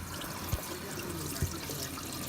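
Hot water from a tankless heater runs from an RV tap in a soft, steady hiss, with two faint low thumps along the way and no speech.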